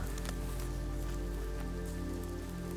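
Rain falls steadily on surfaces, a soft, even patter with scattered drops, alongside faint sustained tones in the background.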